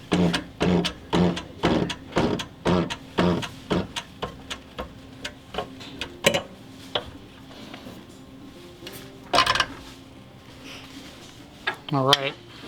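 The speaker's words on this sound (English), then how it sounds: "we're going to set up our pilot and go ahead and press everything into place" A Feuling cam bearing and thrust washer are pressed into place, producing a run of sharp metallic clicks and knocks, rhythmic at first and then more scattered, ending with a brief squeal.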